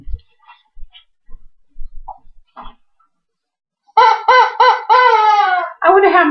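A few faint taps and rustles, then a rubber chicken dog toy lets out a series of loud, honking squawks in quick bursts as it is squeezed.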